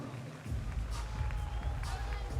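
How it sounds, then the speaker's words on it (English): A basketball arena crowd at a Texas Tech vs. Kansas women's game breaks into sustained applause and cheering, a dense wash of clapping that swells after a brief pause and carries on with a voice faintly underneath. "Please join us in applauding our athletic trainers and in celebrating National Athletic Training Month"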